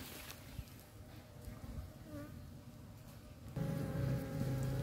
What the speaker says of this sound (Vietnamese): Đây những con ong nó tự biết đường về tổ của nó thôi.